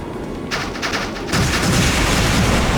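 Rapid machine gun fire from the Trails in the Sky SC video game, a dense continuous rattle of shots that thickens and grows louder partway through, mixed with booming battle noise.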